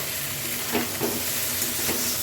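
Potato and plantain frying with Kashmiri red chili powder while being stirred in a pan: a continuous close sizzle with a few soft scraping pulses from the stirring, no talking.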